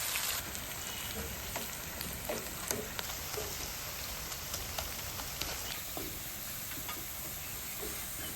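Onions frying in oil for Thalassery dum biryani, a steady soft sizzle and hiss with faint crackles throughout, fairly quiet and with no talking.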